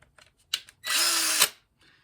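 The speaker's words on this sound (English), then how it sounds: "the answer is because I'm drilling out the ground" Power drill with a large bit drilling out the pickup ground hole in a walnut cigar box guitar, one short loud burst of about half a second after a few faint clicks, close and alone.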